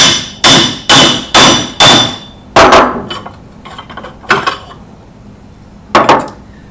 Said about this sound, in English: you take the charcoal and you put it in the press, give it a few good whacks,